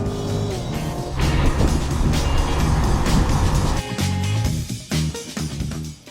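A 2016 Cadillac CTS-V on Michelin Pilot Super Sport tires launches hard from a standstill, its loud, steady engine roar filling the clip before easing into a few quieter pulses near the end.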